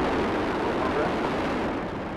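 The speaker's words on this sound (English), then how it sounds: "Booster ignition and the final liftoff of Discovery" Space shuttle Discovery lifting off on its final launch, a continuous, heavy, crackling rocket roar filling the whole clip at high intensity and fading only slightly at the end.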